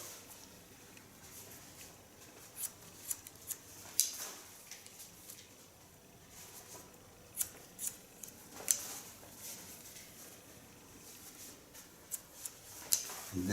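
Scissors cutting long hair into a bob in a salon, soft irregular snips and clicks, faint and close, scattered across a quiet background.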